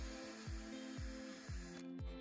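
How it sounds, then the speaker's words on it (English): A malfunctioning spray paint can sprays continuously while black paint goes onto closet shelf brackets, a faint steady hiss with a regular pulsing beat about twice a second. "My spray paint can malfunctioned, so it just sprayed continuously"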